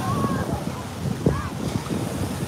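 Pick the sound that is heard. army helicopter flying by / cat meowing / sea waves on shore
sea waves on shore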